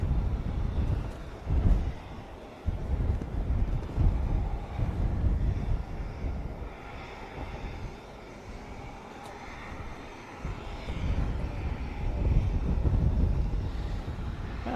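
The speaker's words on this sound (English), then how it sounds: "the AW139 now on final approach, making something akin to a fixed-wing approach" An AW139 helicopter on final approach at the Royal International Air Tattoo 2023 air show produces a low, rumbling engine drone that swells and fades, mixed with gusty wind buffeting on the microphone.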